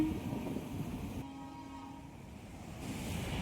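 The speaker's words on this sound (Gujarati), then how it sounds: "તો જોઈ લો મિત્રો ટ્રેન આવી અમારા ગામમાં" A train arrives at a village, its horn sounding as a steady tone for about a second over a low rumbling roll that continues at moderate distance without any talk.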